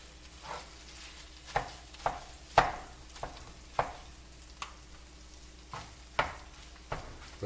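Mushrooms frying in a pan with a low continuous sizzle, broken by regular sharp scrapes and taps of a spatula or spoon stirring every half second or so, close-up and alone.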